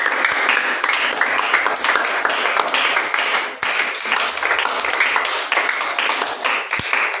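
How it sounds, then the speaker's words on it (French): A church congregation at a Saturday worship service applauds and cheers in acclaim of the Lord, with sustained crowd clapping and scattered voices filling the room. "je voudrais qu'on acclame le Seigneur de tout notre cœur"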